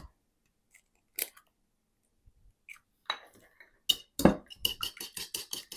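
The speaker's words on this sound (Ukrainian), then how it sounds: "Тепер зіб'ю яйця. Можна сказати, навіть не зіб'ю, а просто добре перемішаю." Eggs being mixed in a bowl, a fork tapping and clinking against the dish in quick, regular strokes that start sparse and grow into a steady rhythm, close and clear.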